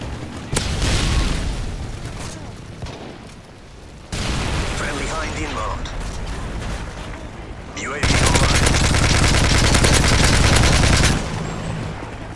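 Modern Warfare 3 combat: booming explosions and bursts of automatic gunfire come in loud waves, with a sustained heavy volley near the end, while voices and game callouts speak over the noise.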